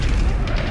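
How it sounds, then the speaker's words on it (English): A point-blank explosion in the video game Killing Floor 2 gives a loud, dense roaring boom that fills the whole short moment with no pause. "Point blank explosion."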